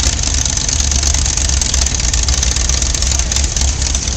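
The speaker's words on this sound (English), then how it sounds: "engage the transmission to get her started." The engine of a 1946 New Holland model 76 hay baler runs in a field, a steady, loud, close rumble with no break or talk.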